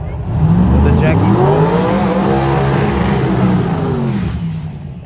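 A Pro Mod Camaro drag car does a burnout at an IHRA Pro Mod Nationals meet at Darana Drag. Its engine roars loudly and steadily for a few seconds before easing off.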